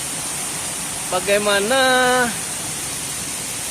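Badorai waterfall in Nagari Sungai Pua pours as a steady, even roar of rushing water throughout, while someone speaks briefly over it partway through.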